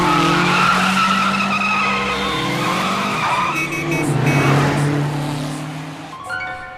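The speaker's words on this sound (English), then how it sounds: "If she heard the sound of that car, Last Order would have totally looked outside to see it drive away." Tires squeal in a long skid from an anime car, with engine tones sliding up and down as it pulls away, loud and close throughout before easing off near the end.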